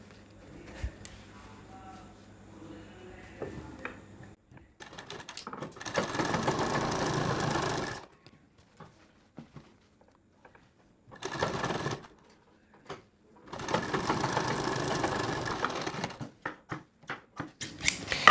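A sewing machine stitches blouse parts together in several bursts of rapid whirring, separated by quiet pauses and small clicks of handling fabric.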